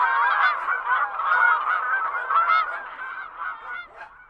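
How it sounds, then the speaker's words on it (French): A flock of wild geese honks loudly and continuously at close range as they fly up from reeds, many overlapping calls forming a busy, chattering chorus. "Et les troupes d'oies sauvages s'envolèrent des roseaux"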